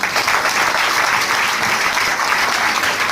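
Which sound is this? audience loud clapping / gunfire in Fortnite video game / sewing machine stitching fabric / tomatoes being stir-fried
audience loud clapping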